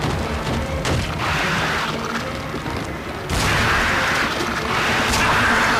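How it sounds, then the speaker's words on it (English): Shotgun blasts in the King Kong video game, heavy booming shots at about one and three seconds into a noisy, dense jungle-fight backdrop, loud and close with no talk. "Shotgun is doing miracles for me."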